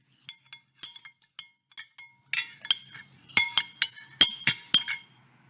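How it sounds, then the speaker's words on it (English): Light glassy clinks of metal utensils, a few sparse taps at first, then a denser run of brighter, louder clinks and rattles. "I'm going to start with the cutlery sound"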